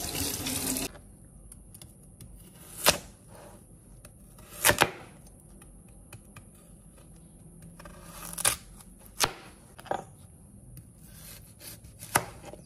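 A white radish, peeled and washed, is sliced thinly with a kitchen knife. Scattered crisp cutting strikes land a few seconds apart, close and clear over faint background room noise, with no talking.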